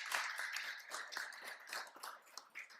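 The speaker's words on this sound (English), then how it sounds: "Please give them a warm round of applause." Applause from an audience in an arena at the Washington International Horse Show, a dense, steady patter of many hands clapping at moderate distance, fairly quiet throughout with no talk over it.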